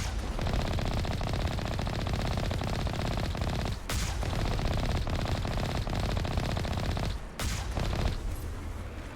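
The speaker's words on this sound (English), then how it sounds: "they're shooting at me" Mass Effect turrets fire at the player in a dense, unbroken rattle of rapid shots that fills the whole stretch, with only two brief dips in the barrage.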